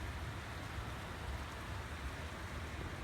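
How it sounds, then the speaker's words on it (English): Steady, dense rain hissing continuously with a low rumble underneath, loud and unbroken throughout. "It's raining pretty hard."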